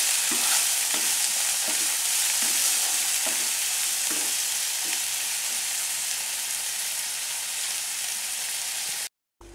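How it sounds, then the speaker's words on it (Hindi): Chopped chilies sizzle steadily in a pan for mustard greens, with a scraping spoon stirring through at regular intervals; no talking, and the sound cuts off just before the end. "we will put 2 chilies chopped and we will cook it"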